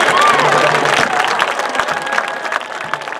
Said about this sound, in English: let's have another nice round of applause for the Grand Valley High School Band.